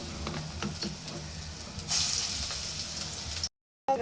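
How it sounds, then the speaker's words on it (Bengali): Kuchila leaf fritters fry in soybean oil with a steady close hiss and sizzle that swells louder partway through, then cuts off abruptly near the end. "এখন আমি বড়াগুলো ভেজে নেব।"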